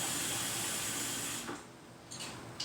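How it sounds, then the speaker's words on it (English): Cold tap water runs steadily into a pot of just-cooked spinach to stop the cooking, a continuous close hiss and splash that cuts off midway, followed by a couple of brief spurts. "So I can just add some cold water, cool this off a little more."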